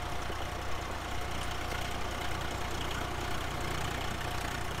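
Swaraj 735 tractor engine idling steadily in Farming Simulator 19, a continuous close drone running alone without pause.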